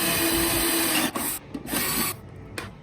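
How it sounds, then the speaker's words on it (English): A drill with a large bit bores a hole for a sensor cable during a portal installation, grinding steadily for about a second, then stopping and restarting in short rasping bursts. "And now we're going to drill the hole for the sensor cable."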